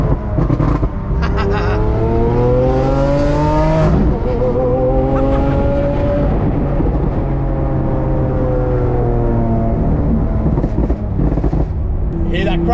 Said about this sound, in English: Hear that cracking? That's all the exhaust.